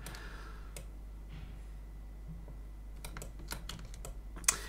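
Computer keyboard keys are pressed during 3D modelling of Tutankhamun's dagger, a quiet run of separate clicks that grows into a quicker burst of typing near the end over a steady low hum.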